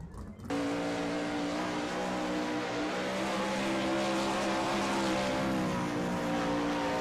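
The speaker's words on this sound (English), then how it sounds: "Love that sound of these 410 non-wing sprint cars." Roaring engines of 410 non-wing sprint cars race past continuously at Eldora, a loud, sustained throaty drone that fills the whole stretch without a break.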